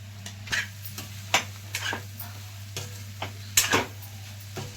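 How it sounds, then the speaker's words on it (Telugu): Beetroot and egg fry cooking in a pan, with a steady low sizzle under intermittent stirring scrapes and clinks of a spoon against the pan, close and moderately quiet. "ఒక 2 నిమిషాలు ఫ్రై చేసుకుందాం"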